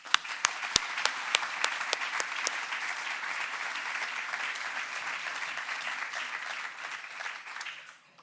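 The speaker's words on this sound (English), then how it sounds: "Let's all give a final round of applause to our sponsors" A crowd claps in sustained applause for sponsors at a community benefit event. A few sharp, distinct claps ring out at the start before the sound settles into a dense, even roar that tapers off near the end.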